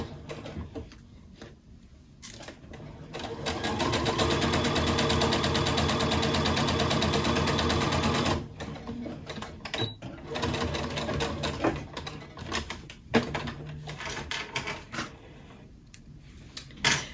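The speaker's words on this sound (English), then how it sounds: "I'm going to sew up to the seam and then do backstitch." A sewing machine stitches a seam on a fleece quilt, running in a loud, steady burst for several seconds, then shorter stop-start bursts for the backstitch, with quiet movement between.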